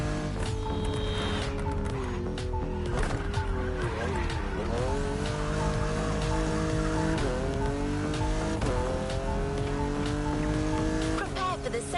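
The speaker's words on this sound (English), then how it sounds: "There's an absolute classic heading your way, a grail among collectors and Jim's greatest pride, the Mustang Boss 429." Ford Mustang Boss 429 muscle car in The Crew Motorfest, its engine revving up and down through repeated gear changes with tire squeals, loud and continuous, while a voice talks over it.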